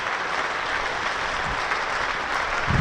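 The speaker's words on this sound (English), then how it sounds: "Warm round of applause from this crowd here at the Ageas Bowl" Warm applause from the crowd at the Ageas Bowl during a one-day cricket match between Hampshire and Worcestershire Rapids, greeting a batsman's half-century. The clapping is a steady, even wash at moderate distance with no talk over it.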